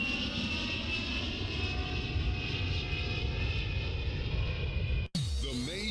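Fixed-wing airplane engine roaring steadily and loud for about five seconds in a continuous broadband drone, then cutting off abruptly.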